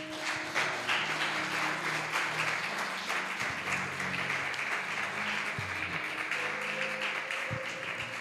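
Church congregation applauding during a worship service, sustained dense clapping from many hands throughout, with faint sustained tones beneath.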